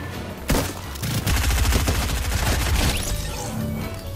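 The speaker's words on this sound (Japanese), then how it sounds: "ずっと撃ってる音がしてたんですけど、多分これ相手の方かな" Gunfire in the Fortnite video game: a dense, continuous volley of rapid shots, loud and sustained for several seconds after an opening blast, with no talking.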